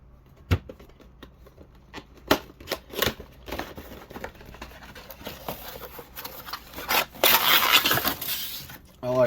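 Crinkling, tapping and tearing as Marvel Legends Daredevil action figure box packaging is opened, with irregular sharp plastic clicks and rustles building into denser crackling toward the end, close up.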